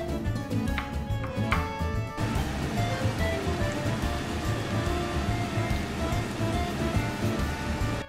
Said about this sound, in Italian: In un tegame con olio caldo iniziamo a far soffriggere la cipolla.